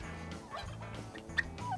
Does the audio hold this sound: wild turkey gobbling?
yes